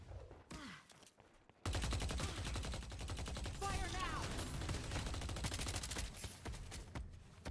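Sustained automatic gunfire from a firing squad in the video game Deadlock, a dense, loud barrage of rapid shots that starts abruptly after a brief quieter lead-in and continues with little pause.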